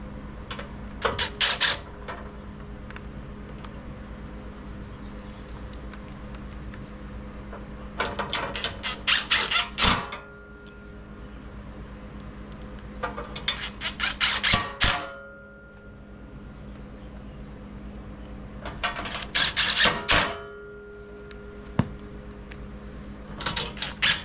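Button head screws fastening the front grille piece of a Barricade HD bumper on a Ford Ranger FX4 with a 4mm Allen key: four separate bursts of quick metallic ratcheting and clicking, with quiet gaps between them.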